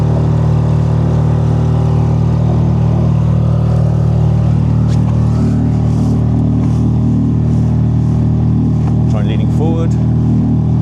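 A small outboard motor, either a Torqeedo 1103 electric or a Honda 6HP BF6 or 10HP BF10 petrol, drives a boat at about six knots during propeller testing. It gives a steady, loud, continuous drone with water and wind noise, and people talk over it.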